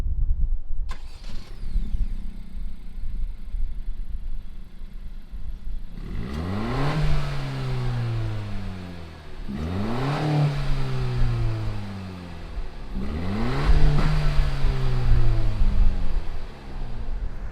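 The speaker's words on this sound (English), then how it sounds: "fire this up, and see what does this Civic Si sound like" A 2019 Honda Civic Si sports car engine cranks and catches, settles into a close idle, then is revved hard three times in evenly spaced bursts that rise and fall away.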